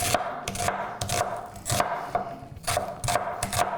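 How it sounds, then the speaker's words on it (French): A knife chops onion and garlic on a cutting board in quick, evenly spaced knocks, close and fairly loud, with no voices. "je vais juste hacher l'oignon et l'ail"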